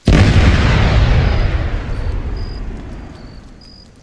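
Demolition charge explosion, a sudden loud close blast with a deep booming rumble that decays slowly over several seconds, with faint high beeps toward the end.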